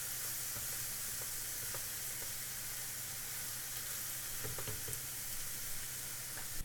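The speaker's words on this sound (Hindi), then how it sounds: "प्याज को भूनते हुए लगभग आधा मिनट हो गया है।" Onions fry on a hot tawa for a paneer dish, giving a loud, continuous sizzle with faint scattered pops and crackles throughout.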